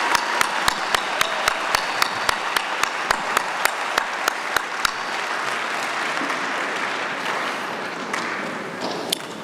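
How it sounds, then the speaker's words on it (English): A large audience at a college fall commencement ceremony claps in sustained, loud applause, with a run of regular sharp knocks over the first half before the clapping thins slightly. "would you please join me, everyone, in thanking with a round of applause Michelle Jensen and the M-State staff who helped organize today's ceremony."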